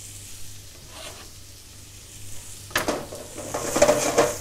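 Chopped garlic frying in a pan for rough village-style cooking: near-silent at first, then a sudden sizzle with scraping stirs that builds louder and busier toward the end.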